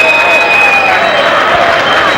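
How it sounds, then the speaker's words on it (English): A rugby stadium crowd at a Romania versus Uruguay international applauds a long-range drop goal attempt, steady loud clapping and crowd noise filling the whole moment. "Well, he's getting plenty of applause"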